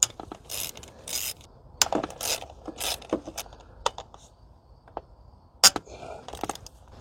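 Wrench cracking a bolt loose, a series of close, sharp ratcheting clicks in bursts with short pauses between, fairly quiet and isolated.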